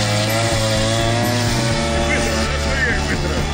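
A grass trimmer cutting grass outdoors near a riverside camp, its small engine droning loud and continuous with a shifting buzzing pitch. People talk over it.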